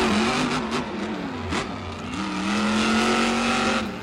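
A monster truck engine revs hard on the Bristol Motor Speedway track, a loud, continuous roar with rising and falling pitch and brief surges, close and dominating throughout with no talk.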